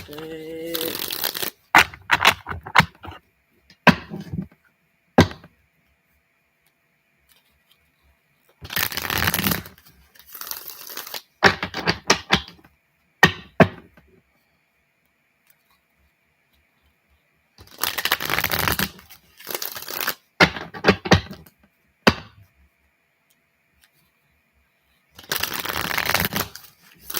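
Tarot cards shuffled close by in several separate bursts of riffling and rustling, with quiet gaps in between.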